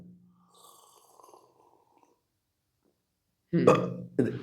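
A loud, close burp after drinking water from cupped hands, a deep guttural belch followed by a shorter second one after a stretch of quiet.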